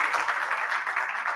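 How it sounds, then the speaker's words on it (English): Conference audience applauding a panelist at an international conference on Black immigration and refugees: an even, continuous wash of many hands clapping at moderate volume, without speech. "Please, another round of applause."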